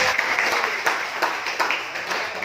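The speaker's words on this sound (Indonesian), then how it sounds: "tepuk tangan dulu untuk" Classroom applause from students, a brief patter of clapping with a few sharper individual claps standing out, mixed with faint chatter.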